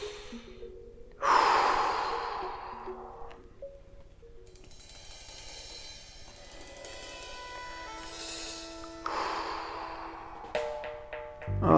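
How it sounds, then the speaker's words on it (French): During a stretching and self-massage routine, a person lets out several slow, audible exhales and sighs at close range, with soft breathing and quiet movement between them. "on expire dessus"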